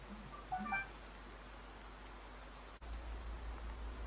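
Heavy rain in the video game Farming Simulator 19, a continuous low, steady rainfall wash with a few brief tonal blips early on and a sudden shift to a deeper rumble partway through.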